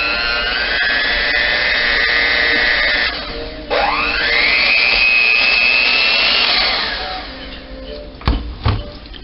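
An electric kitchen mixer whirs steadily while blending dry dressing mix into cream cheese for pinwheel sandwiches, its motor pitch dipping and rising midway, then easing off before a few clunks near the end.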